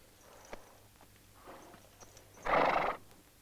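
A horse in an old spaghetti western gives one loud, close whinny late on, after a few soft clip-clopping hoofbeats and quiet shuffling.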